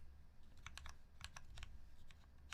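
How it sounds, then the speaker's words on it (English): A mechanical computer keyboard clacks through a typing test in quick, irregular bursts of keystrokes, close and clear with a low background hum and no talk. "I will run the typing tests here. If you guys care to listen."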